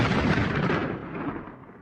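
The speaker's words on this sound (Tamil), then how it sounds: "ஒன்னா நிக்க சொல்லி நடுவுல வெடிய கொளுத்தி போட்டால" A cartoon firecracker goes off in one loud booming blast that rolls away and fades over about two seconds, with no voices during it.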